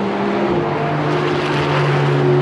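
A Porsche 992 Carrera runs at a track day at Homestead-Miami, its engine a loud, steady broadband drone throughout, with no voices over it.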